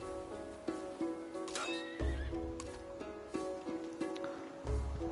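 Horse neighing for a cavalry unit in the strategy game Civilization 7, several whinnies over soft game music and ambient effects, moderately loud and close.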